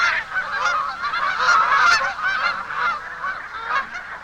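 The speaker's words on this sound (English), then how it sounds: "the first geese arrive." A flock of newly arrived migrant geese honks continuously and loudly in a dense chorus of overlapping calls outdoors in Alaska in spring.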